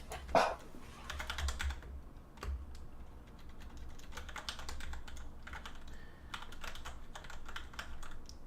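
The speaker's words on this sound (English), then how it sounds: "It's hard to type over top of this keyboard" Fingers tap away at a computer keyboard in quick, uneven bursts with short pauses between them. The keys sound close but soft, with one sharper knock near the start.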